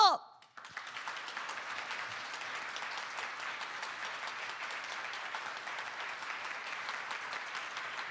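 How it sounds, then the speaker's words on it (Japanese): An audience at a press conference gives sustained applause to welcome director Makoto Shinkai, after a brief loud voice at the start; steady dense clapping from a large crowd continues evenly at moderate volume. "皆様大きな拍手でお出迎えください。"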